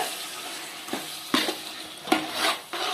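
Chicken masala being stirred and sautéed in a pot for chicken biryani: a close sizzling bed broken by several scraping spoon strokes, about four distinct stirs over a few seconds, no talking.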